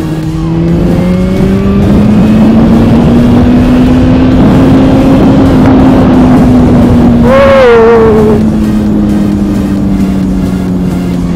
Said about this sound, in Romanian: Văzut cum se accelerează un motor așa finut.